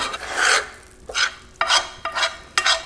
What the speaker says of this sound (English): You want to scrape all these brown bits off that are at the bottom of the pan